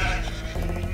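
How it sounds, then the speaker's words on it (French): Sheep bleating in the Age of Empires II HD Attila the Hun campaign, a short steady bleat lasting about a second, loud and clear with no speech over it. "il y avait d'autres moutons là"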